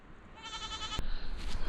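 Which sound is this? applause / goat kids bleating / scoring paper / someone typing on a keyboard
goat kids bleating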